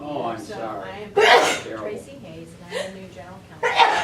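A person sneezes loudly during a committee meeting, with people talking in the room before and after it.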